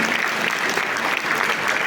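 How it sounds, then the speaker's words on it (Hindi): Loud, dense applause from a crowd at a party workers' gathering, honoring five party workers, a steady wash of clapping that fills the whole moment without a break. "एक बार जोरदार ताली"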